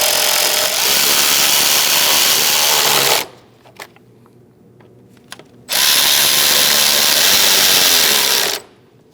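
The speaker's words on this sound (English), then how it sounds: "Let's tighten down these two bolts." A power tool driving bolts down on a 2000-2006 Mini Cooper brake master cylinder, two loud continuous whirring bursts of about three seconds each separated by a quiet gap with small clicks.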